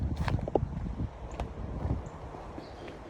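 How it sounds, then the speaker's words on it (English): Low, gusty rumble of wind buffeting a microphone outdoors at Claytor Lake State Park, Virginia, fluctuating throughout with faint rustling in the background. "it's a bit windy, so I hope it doesn't get too windy and noisy out here."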